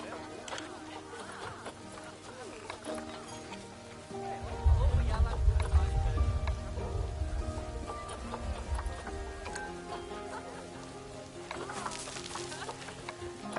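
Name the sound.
rain falling in the video game Planet Zoo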